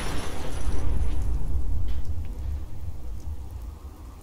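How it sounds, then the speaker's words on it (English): A large explosion in the Fallout 4 video game, a heavy low rumbling boom that holds loud for a few seconds and then slowly fades, with no voices. "That was a much bigger explosion than I thought it was gonna be"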